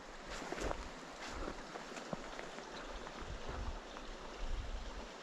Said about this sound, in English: There's definitely water running down there.